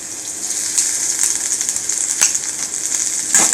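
Khichdi for a fasting thali fries in a pan with green chilli paste, giving a steady, close sizzle with light crackles and a few soft stirring scrapes.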